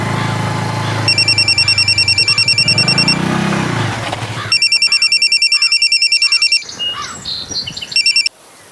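An electronic telephone ringer trilling in repeated bursts, loud and close, with two long ringing spells and a shorter final one, separated by quiet gaps.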